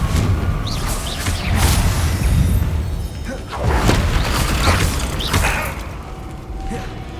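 Confringo fire-spell blasts in Hogwarts Legacy combat, loud and dense: repeated whooshing casts and booming impacts rolling over one another with rumbling low end for several seconds.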